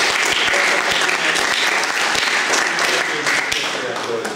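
Audience applause at a gathering of a Hungarian Olympic friends' circle hosting wrestlers, a loud, dense, sustained clapping that fills the room steadily from start to finish.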